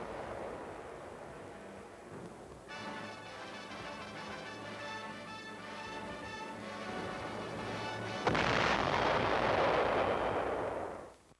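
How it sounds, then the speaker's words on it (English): Distant artillery fire along a snowy Korean War front in winter, heard as a muffled, steady rumble beneath a sustained tonal drone, then swelling into a louder broadband roar near the end before cutting off. "The snow muffles the sound of the big guns."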